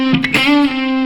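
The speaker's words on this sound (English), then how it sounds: "When we're bending up a full step and then bending back, we're just doing it really quickly." A quick full-step guitar string bend and release sounds loud and close. It is a single sustained, overdriven note that swoops up and back down within about a second, with no talking.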